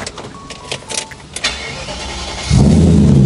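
A BMW E34 530i V8 fitted with an Earth Twin Muffler exhaust starts up near the end after a few faint clicks and rustles, settling into a loud, close, steady low rumble.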